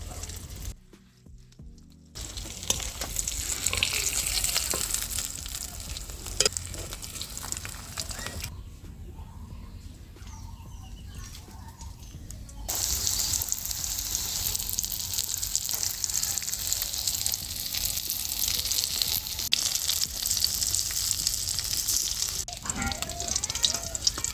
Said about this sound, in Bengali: তো 2 পিঠ হালকা করে ভেজে তুলে নিতে হবে